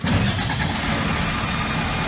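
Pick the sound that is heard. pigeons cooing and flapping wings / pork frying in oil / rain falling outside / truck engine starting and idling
truck engine starting and idling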